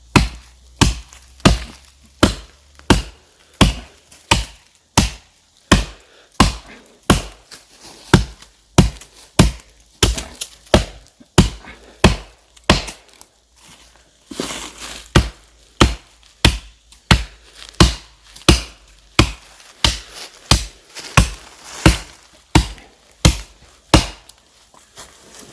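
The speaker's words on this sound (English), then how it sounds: "So let's see how long it'll take us to chop this tree down." A fixed blade knife chops into a standing tree with steady, evenly spaced woody whacks, some thirty sharp strikes close up and loud, with brief quiet gaps between them and no talk.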